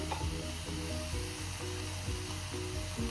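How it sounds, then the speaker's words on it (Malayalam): Chopped long bean leaves sauté in hot oil in a pan, giving a soft, continuous close-up sizzle with a faint stirring texture throughout. "നന്നായി എണ്ണയിലൊന്ന് വഴറ്റിയെടുക്കാം"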